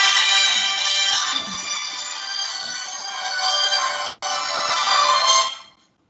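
A phone ringtone plays loudly and continuously in a lecture setting, a bright melodic ring with a brief cut partway through before it stops.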